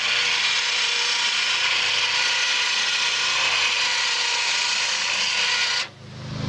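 Rope winds back and forth onto a spool in a home workshop, giving a steady, loud mechanical whirring that runs without a break for about six seconds and then stops abruptly.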